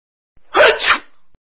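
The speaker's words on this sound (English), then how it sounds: "Achoo, the sound you make when you sneeze." A single sharp human sneeze, a short intake followed by a loud burst, heard close and alone against silence.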